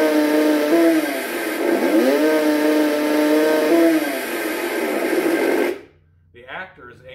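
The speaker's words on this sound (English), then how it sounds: "Push down on the rev button and you control the sound of the saw" A Spooky Props Chainsaw Shocker electronic chainsaw prop revs loudly through its speaker, the engine-like whine swinging up and down in pitch several times before cutting off abruptly, followed by a few faint scattered noises.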